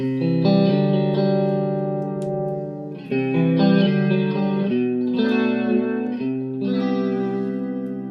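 An electric guitar plays sustained chords through a Boss MS-3 chorus effect, shimmering and swirling with some grit, ringing out clearly in several strummed phrases.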